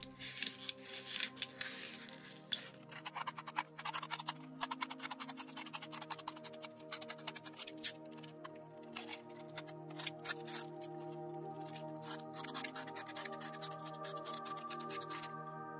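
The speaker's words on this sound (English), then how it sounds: "trim the foam core into an ovular shape" Foam core being trimmed into an oval with a blade and its edges bevelled for a scratch-built frozen campsite terrain piece, a close, quiet run of small scratchy cuts and ticks against a faint background hum.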